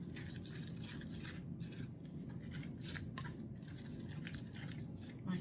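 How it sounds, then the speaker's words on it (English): Apple slices being stirred around in a bowl make soft, repeated wet squelching and scraping strokes that run continuously and sit close by, with no talking. "I am going to go in with the apple slices. And kind of stir that around also."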